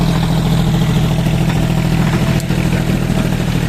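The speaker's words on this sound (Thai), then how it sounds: "ใช้รอบเครื่องต่ำนะครับ จอนเดียครับ ใช้แรงบิดทำงานครับ ใช้รอบเครื่องที่ต่ำครับ" A John Deere 5045D three-cylinder tractor engine plows hard soil at low rpm, giving a loud, close, steady chugging drone with a rough clattering pulse.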